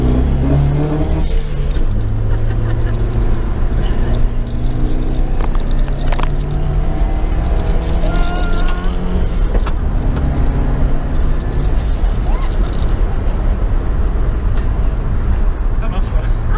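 A warm Nissan 200SX S13 engine runs steadily, with a continuous low drone and shifting harmonic tones like gear changes, loud and close under intermittent conversation.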